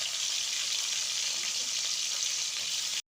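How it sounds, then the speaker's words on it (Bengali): Beans frying in a wok give a dense, continuous loud sizzle close by, unbroken and with no voices, cutting off abruptly at the end. "এবার বিনটা ভেজে নেব।"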